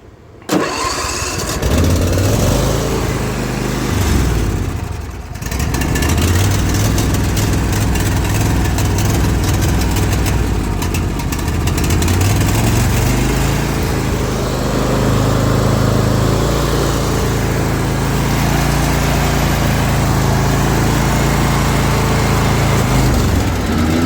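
A zero-turn mower's small engine cranks and catches, then runs at a loud, steady idle close by, its drone wavering slightly in pitch as it settles, with no voices over it.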